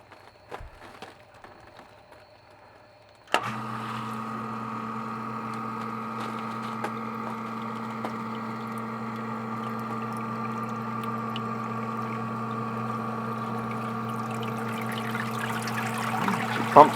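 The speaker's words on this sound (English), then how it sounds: "So I'm going to go ahead and force this to pump" Basement sump pump forced on, clicking to life and then running with a steady electric motor hum and water rushing through the pipe, continuous and fairly quiet nearby, no talking.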